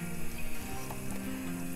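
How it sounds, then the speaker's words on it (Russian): Steady crackling sizzle of bacon frying in a pan, continuous and fairly loud throughout, with no voices. "Теперь в сковородку отправляем бекон"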